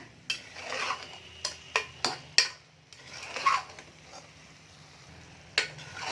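Mushroom biryani gravy being mixed in a cooker pot, a spoon scraping and clinking against the metal in irregular taps and scrapes, close and fairly quiet, with no talking.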